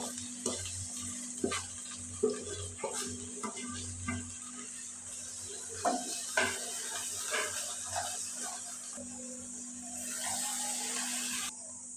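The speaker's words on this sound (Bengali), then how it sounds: "এখন আমি চিংড়ি মাছ দিয়ে দিব। সব মশলাগুলি দিয়ে দিব।" Shrimp and spices tipped into a hot frying pan, giving a soft, steady sizzle with scattered light clinks and scrapes, fairly quiet throughout.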